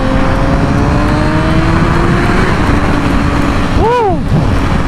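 A Yamaha R6 600cc inline-four sport bike engine drones steadily and loudly, then revs sharply upward with a rising, sweeping whine near the end, with wind-like rumble throughout.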